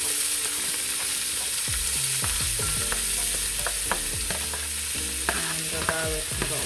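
Fresh seasonings for saffron yellow rice frying in hot oil, a steady sizzle with repeated scraping and stirring clatter of a utensil against the pan, close and alone without speech.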